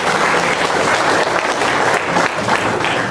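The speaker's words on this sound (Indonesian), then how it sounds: "Oke, tepuk tangan dulu buat kita semua." Loud, close crowd applause fills the room, a continuous dense patter of many hands clapping with no pause throughout.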